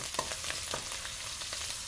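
Spices and red chili powder sizzle and crackle steadily in hot oil for a dal tempering, with frequent small pops and a constant frying hiss throughout.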